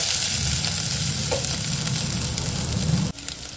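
Steady, close sizzling and crackling of crushed garlic, cumin seeds and curry leaves frying in hot oil, continuous with faint stirring, then the hiss drops abruptly near the end.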